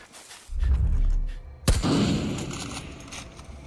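A burst of loud gunfire erupts in the video game Far Cry 5, followed by a sharp blast that trails off into a rumbling echo, with no talking.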